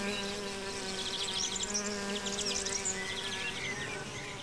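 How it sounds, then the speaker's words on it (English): Bees forage for nectar and pollen among blossoms high in the Jura Mountains of Switzerland, with a steady, close insect buzz holding throughout and overlapping wingbeat drones layered over a faint background hum. "Bees need huge quantities of nectar and pollen to feed the brood in their hives."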